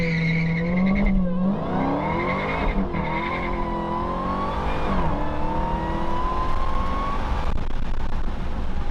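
A Dodge Hellcat Redeye launches with launch control, its supercharged engine roaring loud and close as it revs up and climbs through rising, sweeping gear pulls with a whining tone, with no pause across the whole stretch.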